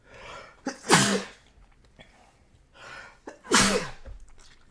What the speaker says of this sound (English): I started sneezing